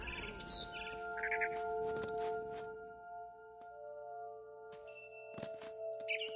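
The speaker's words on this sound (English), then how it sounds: "Then I heard chirping outside my window. It was a barn swallow going back to her nest." A barn swallow in the video game What Remains of Edith Finch gives a few short, bright chirps at the start and again near the end, over a sustained tonal musical background.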